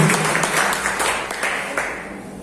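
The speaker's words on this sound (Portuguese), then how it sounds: "Vamos nos colocar de pé, aplaudir o Senhor, dá uma salva de palmas para Deus." A church congregation stands and applauds during worship, dense continuous clapping close by that thins out gradually toward the end.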